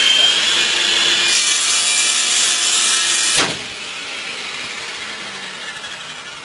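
A Bosch Reaxx table saw cuts through wood with a loud, continuous cutting roar. It stops abruptly partway through, leaving a quieter running hum with no voices.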